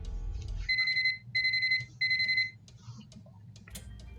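Electronic alarm clock in the Curse of Blackmoor Manor video game beeping three times in even bursts, then quiet clicks and handling as it is reset.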